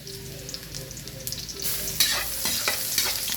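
Ginger added after garlic to a hot pan for goat papaitan sizzles up loudly partway through, a quieter hiss swelling into a bright crackling fry with stirring clatter, close.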